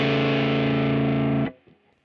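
A Gibson Memphis ES-359 electric guitar rings out a distorted power chord whose notes clash into an odd beating tone. It sustains loud for about a second and a half, then is abruptly muted, leaving faint string noise.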